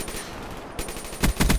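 Galil rifle fire in Black Ops 3: a scattered opening shot, then a tight burst of three or four loud, punchy reports near the end, over a steady game backdrop.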